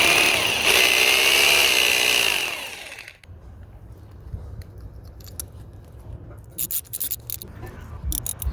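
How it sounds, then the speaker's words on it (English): A power drill bores a half-inch hole while a wall-mounted rose trellis is being built, its loud steady whine running for about three seconds before stopping, followed by clattering and handling of tools and hardware. "So we're gonna have to drill that hole bigger and put one of these in there."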